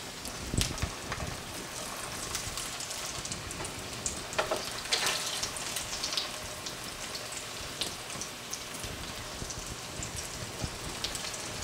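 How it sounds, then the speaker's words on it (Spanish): Cauliflower patties fry in a pan with a steady, close, rain-like sizzle full of small crackles and pops, staying fairly even throughout with no talking. "Vamos a empezar a dorar nuestras tortitas para ponerlas en el caldillo."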